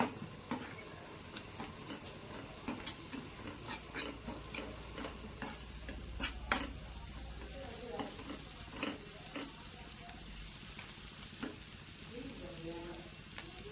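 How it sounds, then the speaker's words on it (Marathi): Steady sizzling and frying with frequent scraping and stirring clicks of a utensil as ground spice paste is sautéed in a pan for bitter gourd curry, close up, with no talking. "छान परतून घेऊ त्याला."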